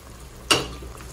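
Yogurt drops into hot frying masala for masoor pulao with one sharp, close sizzling splash. The hiss fades quickly back into a low simmer, and no one speaks.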